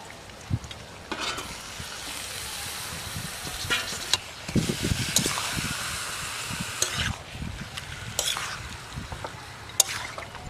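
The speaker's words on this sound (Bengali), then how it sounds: "এই পেঁয়াজটা চর্বির সঙ্গে একটু ভাজা হবে, এতে একটা আলাদা ফ্লেভার আসবে।" Mutton with fat and onions frying in a pan, a steady sizzle broken by frequent stirring clatters and scrapes, close and fairly loud with no talking.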